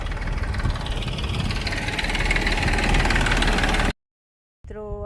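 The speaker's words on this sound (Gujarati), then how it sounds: "ટ્રેક્ટર આવી ગયું." On a farm, a tractor engine rumbles loud and steady at close range for several seconds before the sound cuts out abruptly, followed by a short, fainter tail of noise.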